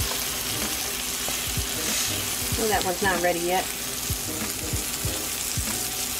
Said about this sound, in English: See how that nice golden brown sizzles on there?